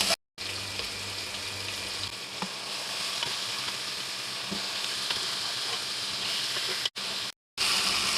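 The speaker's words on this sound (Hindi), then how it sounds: "फ्लेम को हम हाई रखेंगे और गोश्त को अच्छी तरह हम फ्राई कर लेंगे टमाटर और हरी मिर्चों के साथ" Boiled mutton pieces fry with tomatoes and green chillies over a high flame, producing a loud, continuous hissing sizzle with occasional stirring scrapes and two short breaks in the sound.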